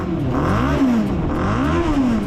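A BMW Isetta microcar fitted with a Yamaha R6 motorcycle engine revs hard at a drag strip, its high-pitched engine note rising and falling twice in quick, loud, close-up sweeps.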